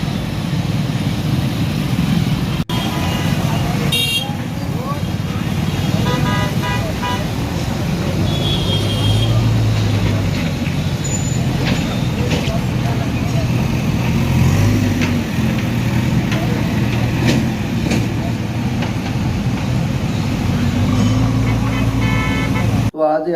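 Road traffic streams past continuously and loudly: car engines rumbling, occasional horn toots and a heavier bus-like drone, with voices talking amid the noise throughout.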